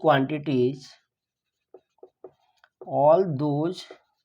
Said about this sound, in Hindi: तो हम यहाँ पर लिखते हैं